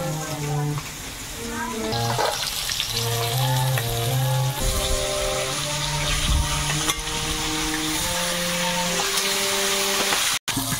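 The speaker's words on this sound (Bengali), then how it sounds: "হালকা ভেজে নিয়েই মাছটা তুলে নিচ্ছি।" Hilsa fish pieces frying in hot oil in a pan, a steady loud sizzle running throughout, with a person talking over it.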